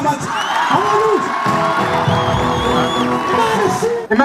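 A congregation of students at a thanksgiving gathering claps and cheers to praise God, loud sustained crowd noise with whoops and shouts, near and dense throughout.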